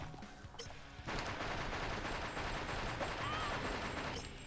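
Rapid, continuous gunfire from the video game Spawn Armageddon bursts in after a quieter second and holds loud and dense for the rest of the clip.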